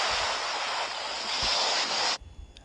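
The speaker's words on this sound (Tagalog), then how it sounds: "dagat dyan" Roaring sea waves used as a stock sound effect, a dense, loud wash of surf that runs steadily for about two seconds, then cuts off abruptly into a few faint low rumbles.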